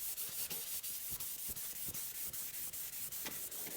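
A Telecaster fretboard with pearl markers is rubbed with 1200-grit abrasive, giving a close, even series of rapid back-and-forth scratchy strokes in a steady rhythm, with no voices.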